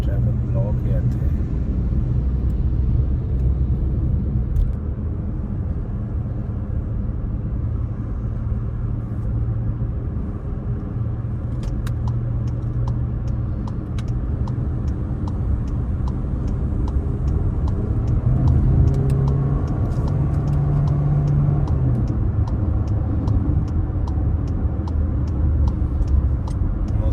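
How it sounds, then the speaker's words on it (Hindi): Traffic crawls along a jammed road beside new road construction in Belgium, a steady heavy rumble of nearby car engines with faint ticking, and people talk over it throughout. "कितनी ट्रैफिक ब्लॉक है इत्थे।"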